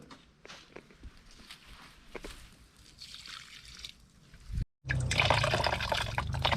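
Water drains from the cooling system of a Nissan 350Z during a thermostat replacement and coolant flush, a soft trickle at first, then a loud, steady gush of splashing liquid in the final seconds.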